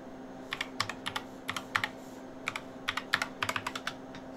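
Someone types a short command on a computer keyboard, producing close, crisp key clicks in two quick bursts of irregular taps with a brief pause between, no talking.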